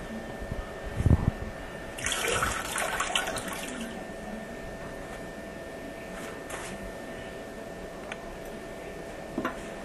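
Water drains from a toilet tank while the flush valve is being replaced: a thump, then a close splashing gush for a second or so, settling into a faint steady trickle and hiss.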